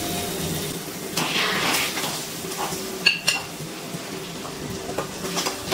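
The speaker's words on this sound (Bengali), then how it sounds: "ভালো করে ডিমটা মিশিয়ে নিচ্ছি মশলার সাথে।" Fried eggs stirred into biryani masala in a pan, a spatula scraping and clinking against the metal in scattered strokes over a low steady background, close up and without speech.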